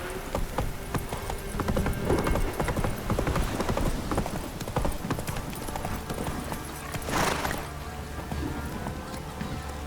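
In The Witcher 3, a horse's hooves pound in a quick, continuous galloping rhythm, fairly close and steady, with some background game ambience.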